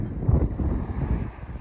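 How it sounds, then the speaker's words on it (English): Gusty wind buffets the microphone in a low, rumbling roar on an overcast shingle beach. "So at the moment, overcast, windy"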